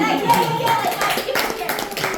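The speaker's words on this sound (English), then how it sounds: "Can we applaud him that?" A stand-up comedy audience claps in scattered, uneven bursts close by, with voices and chatter mixed in over the applause.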